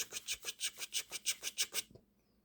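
A loose scope focus ring is rubbed back and forth on sandpaper laid on a flat surface, about a dozen rhythmic rasping strokes close up before stopping.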